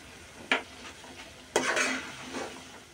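Dried loitta fish is stirred with tomato in a frying pan, a spoon scraping the metal in a couple of distinct strokes over a soft background sizzle.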